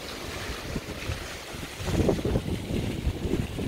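Sea waves wash onto a Black Sea beach in Bulgaria as a continuous broad rumble mixed with wind buffeting the microphone, growing louder partway through.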